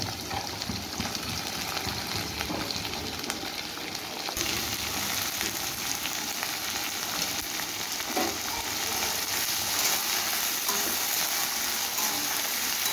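Carrots and beans frying in a pan for fried rice give a steady, dense sizzle throughout, with faint occasional stirring scrapes and no voices.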